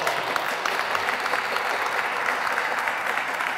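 A crowd applauds at a Hispanic Heritage Month closing ceremony, honoring award recipients with a steady, dense roll of clapping that holds at an even level throughout, no voices on top.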